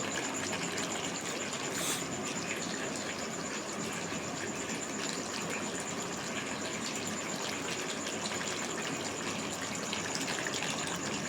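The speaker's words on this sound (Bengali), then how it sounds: "এবারে আমি জল দিয়ে দেবো" Water poured steadily into a pot of duck meat and potatoes, a loud, continuous close gushing that fills the whole stretch with no talk.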